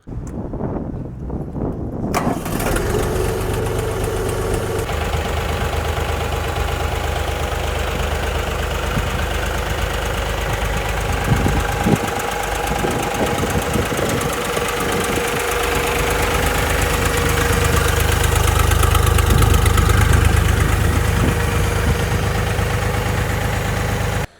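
A Kentavr 244 tractor's 1.6-litre diesel engine idles loudly up close, a steady knocking rumble with constant vibration that grows slightly heavier toward the end.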